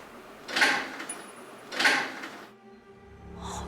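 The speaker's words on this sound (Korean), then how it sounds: "마치 누군가 문고리를 만지는 듯한 소리가 나는 거예요." A door handle being touched and rattled as a horror drama effect, two distinct metallic rattling clicks a second apart, followed by a faint creak and a soft scrape.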